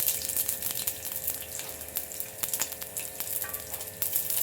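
Onion, green chillies and curry leaves with mustard seeds fry in a little oil, a steady hiss with scattered crackles and pops throughout, close and fairly loud.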